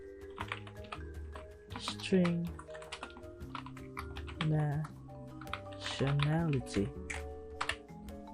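Key clicks from a computer keyboard as Java class code is typed, a steady patter of taps running beneath a voice talking throughout.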